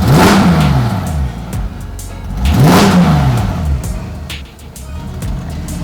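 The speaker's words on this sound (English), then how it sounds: "So this is with closed exhaust." A Porsche GT3 engine with its Fi exhaust valves closed is blipped twice, each rev rising sharply and falling away, loud and close, with a lower, muffled growl between the pulls.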